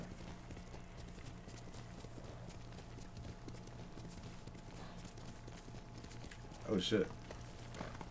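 Hooves clip-clop from a horse in a samurai video game, steady and moderately quiet under a continuous game backdrop. A man exclaims briefly near the end with a louder burst.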